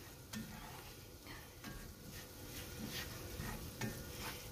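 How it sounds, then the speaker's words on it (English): Flour and fat cooking into a roux in a pan give a low, steady sizzle with soft scraping stirs and a few light clicks of the utensil against the pan, close up and without talk. "Start that to cooking. Right in there to make our roux."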